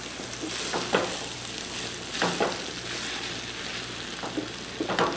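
Vegetables sizzle and fry steadily in a new pan, with periodic scraping stirs every second or so as basil and seasoning are mixed in; no talking.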